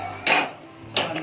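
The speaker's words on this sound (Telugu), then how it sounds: "ఇప్పుడు స్టవ్ ఆన్ చేసి కడాయి పెడతాను" A metal kadai is set down on a kitchen stove with two separate clattering clunks, the first louder than the second, both close by.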